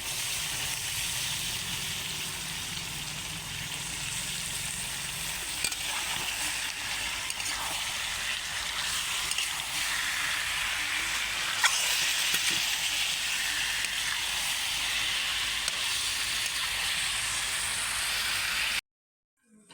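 Chicken pieces frying in a large wok-style pan for chicken biryani, a steady broad sizzle and hiss with occasional stirring scrapes, continuous until it cuts off abruptly near the end.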